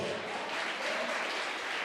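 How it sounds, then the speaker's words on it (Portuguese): A congregation applauds at an emotional intelligence course session, with continuous, dense clapping that sounds soft and slightly distant throughout the brief stretch. "Você pode aplaudir o Senhor?"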